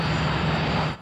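Jet fighter planes from the Thunderbirds puppet series pass overhead in a brief, loud, steady engine roar. It fades at the very end.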